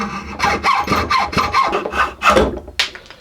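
A cracked plastic axe head prop for Game of Thrones dragonglass weapons is trimmed with a tool, giving repeated rasping, scraping strokes in a steady rhythm, close and fairly loud with no talking.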